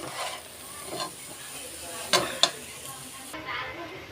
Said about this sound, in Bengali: এটাকে অনেকক্ষণ নাড়তে হবে চুলার উপরে রেখে চিনিটা গলে যাবে